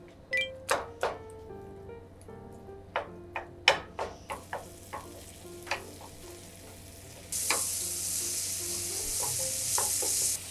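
Ground chicken stir-fried in salad oil in a frying pan over medium heat, with a series of sharp spatula clacks and taps on the pan over a low sizzle that turns louder and steady partway through; no talking.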